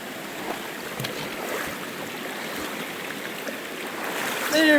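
Water of a mountain creek in the Trinity Alps wilderness flows in a steady, close rushing wash, with a brief brighter splash near the end.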